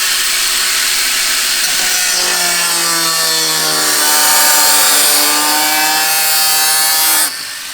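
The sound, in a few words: cutting a race car part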